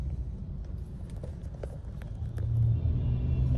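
A Mahindra XUV700 petrol manual waits at a red light in heavy weekday city traffic, with low engine and road rumble, faint passing-vehicle noise, and a louder swell of rumble near the end.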